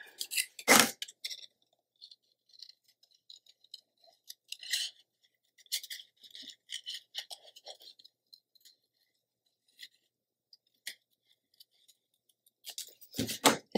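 Scissors snip through paper in short, crisp cuts, a sharp opening snip followed by scattered small clicks and rustles, then a final burst of cutting, close and quiet with no voices.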